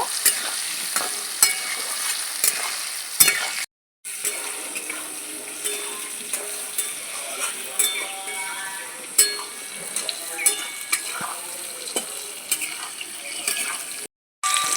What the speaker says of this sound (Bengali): আলুগুলো লাল করে ভাজা হয়ে গেছে আমি তুলে নিচ্ছি